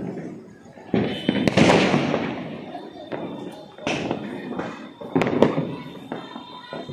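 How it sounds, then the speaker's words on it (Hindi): Diwali firecrackers bursting all around a residential neighbourhood, repeated loud bangs and crackling pops echoing from near and far, with someone talking between the blasts. "चारों तरफ पटाखों की आवाज"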